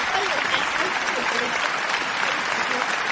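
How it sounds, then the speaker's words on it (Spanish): Applause from an audience at a legal seminar on money laundering offences runs as a steady, close wash of clapping throughout, with a voice talking beneath it. "Un aplauso"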